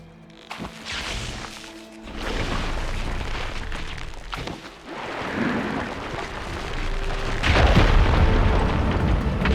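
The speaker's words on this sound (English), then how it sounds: "Igniting that fire gleam should clear it" Firegleam explosion clearing rubble in Horizon Forbidden West, heavy booming bursts and rumbling debris that swell and fade, with a big loud blast near the end.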